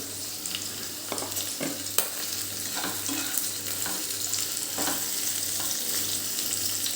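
A hundred grams of paneer fries in a hot pan with a steady, close sizzle, broken by repeated scraping taps as it is stirred.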